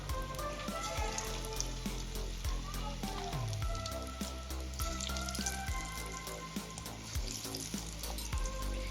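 Moong dal pakoras (bhaje) deep-frying in a kadai of hot oil give a dense, continuous crackling sizzle with bubbling pops, close and steady with no voices.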